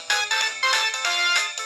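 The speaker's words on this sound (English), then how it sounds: "Now, the LG VX8300 has these cool old ringtones that you can listen to." An old LG VX8300 cell phone plays one of its built-in ringtones, a loud electronic melody of several bright, pulsing tones.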